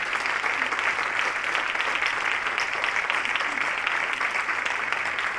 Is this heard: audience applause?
yes